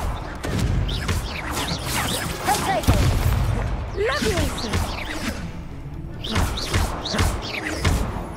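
Spell blasts from the Confringo curse in Hogwarts Legacy on PS5, a run of whooshing, thudding impacts and crashes amid busy combat noise, with a few louder bursts near the start and toward the end over continuous game clatter.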